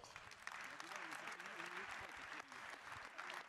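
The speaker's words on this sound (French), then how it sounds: "On applaudit Thierry Breton." Applause from an audience fills the room, steady clapping with voices mixed in underneath.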